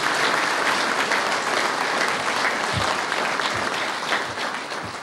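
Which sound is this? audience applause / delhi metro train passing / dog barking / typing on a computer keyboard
audience applause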